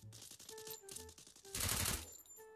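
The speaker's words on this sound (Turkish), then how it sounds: "Biri köşeden sıkıyor." Rapid gunfire from the Free Fire mobile battle royale game, a burst of dense automatic shots that swells loudest midway through, surrounded by quieter clicks and game effects.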